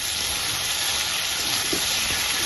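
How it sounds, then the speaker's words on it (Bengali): Taro pieces frying in oil with cumin powder, a steady close bright sizzle and hiss running unbroken through the moment. "আর কচুগুলো একটু ভালো করে ভেজে নেবো, যেন সিদ্ধ হয়ে যায় তাড়াতাড়ি।"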